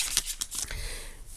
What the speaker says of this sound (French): Une paire de ciseaux pour découper